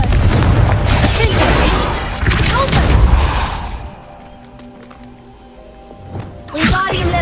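Confringo fire spell blasts in Hogwarts Legacy: loud booming explosions with crackling debris over the first four seconds, fading to quieter rumbling, then another sharp burst near the end.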